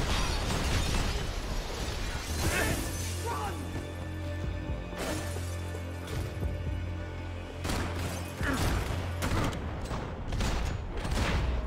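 Repeated bursts of gunfire and explosive shots from the video game Max Payne 3, loud and clustered in rapid volleys over a steady low drone, with voices talking in between.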